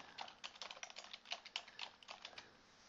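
Quick keystrokes on a computer keyboard clatter in a close, quiet run of light irregular taps, several per second, with no voices.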